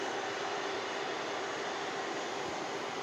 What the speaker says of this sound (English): Virgin Atlantic A330 taxiing in.